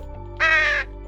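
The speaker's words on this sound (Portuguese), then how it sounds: "Os jovens corvos lutam entre si com os gravetos" A young crow gives a single loud, harsh caw lasting under half a second, standing out close and clear against a low steady background hum.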